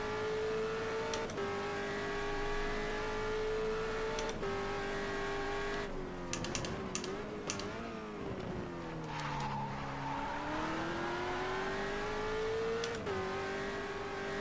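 Race car engine in the racing video game GTR2 at Bahrain, a loud, steady high-pitched drone that rises and falls with gear shifts and braking, with brief tire squeals and skids in the middle.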